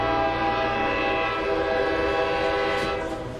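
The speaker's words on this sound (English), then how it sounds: "there's a loud whistling as the fully loaded train lurches into motion" A loud, sustained steam-style whistle blows from a fully loaded passenger train as it lurches into motion in a video game, a rich harmonic tone held throughout with faint rail rumble beneath, fading slightly at the end.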